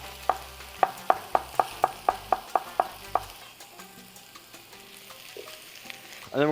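Garlic slices frying in a pan for tacos, a steady soft sizzle under a quick run of sharp, evenly spaced taps, with a brief rising tone right at the end.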